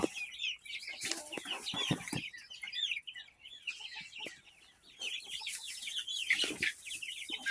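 Several chickens cluck and chatter softly together nearby on fresh straw, a busy, continuous mix of short peeps and clucks with some faint rustling.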